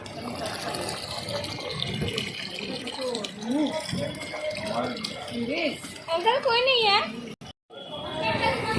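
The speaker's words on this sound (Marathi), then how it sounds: "हत्तीच्या सोंडेतून पाणी वाहत आहे असं आपल्याला कारंजन दिसत आहे" Water pours from an elephant-trunk fountain at a Ganesh festival pandal in Khetwadi, a steady splashing rush mixed under constant crowd chatter and nearby voices.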